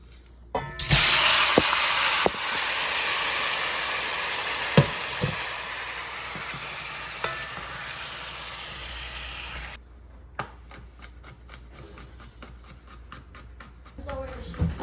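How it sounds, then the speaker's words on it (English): Adobo-seasoned beef sizzles in a pan with a loud steady hiss that fades after about ten seconds, mixed with scattered utensil knocks and clinks. "I just seasoned the beef with a little adobo, and I'm just going to saute it"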